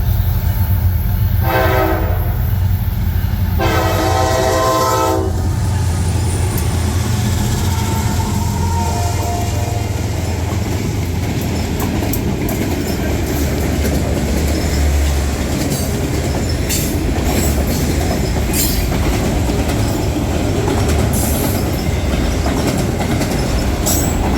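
A freight train made up entirely of auto-rack cars rolls past close by with a steady rumble and wheel clatter, opening with two long horn blasts.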